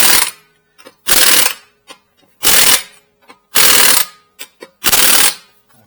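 A power impact wrench set to maximum torque works on a Ford Escape during a tire rotation, giving four loud, even bursts of rapid hammering separated by short pauses and faint clicks.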